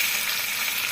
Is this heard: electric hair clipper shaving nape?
no